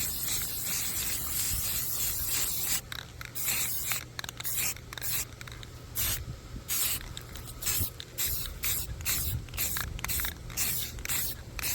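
A spray paint can hisses in short, repeated bursts while worn spots on a cemetery fence are touched up, each spurt close and crisp, separated by brief pauses over a low steady background hum.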